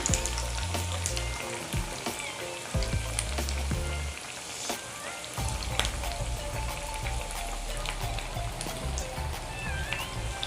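Sabudana vadas deep-frying in hot oil, a steady loud sizzle and crackle of bubbling oil running throughout with occasional low clunks.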